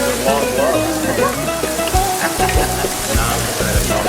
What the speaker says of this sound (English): That's it. That's the sofrito.